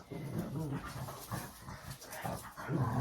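Excited dogs pant rapidly and steadily close up, breathy huffs with a faint whimper mixed in, continuing throughout.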